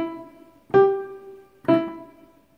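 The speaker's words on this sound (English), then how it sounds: "they would be played staccato" Two separate crisp, short staccato notes, each struck sharply and ringing briefly with clear harmonics, spaced about a second apart, with no talking.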